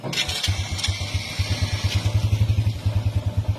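A covered pickup truck's engine starts and runs close by, a low rhythmic chugging pulse that steadies into an even idle, with brief clunks early on.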